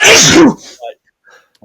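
A single loud, close sneeze bursts out at the start during a podcast conversation, then drops to near silence with a brief word spoken afterward.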